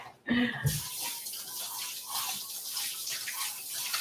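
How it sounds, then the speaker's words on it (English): A kitchen tap runs while hands are rinsed, producing a steady, fairly soft stream of water that starts abruptly after a brief voice and continues to the end. "Let me just rinse my hands real quick."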